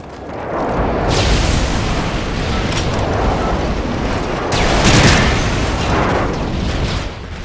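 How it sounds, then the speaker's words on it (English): Airstrike blasts in a first-person shooter free-for-all match, a loud sustained roar of overlapping explosions and rumbling booms with a sharper burst midway, dense and continuous. "Friendly airstrike on the way"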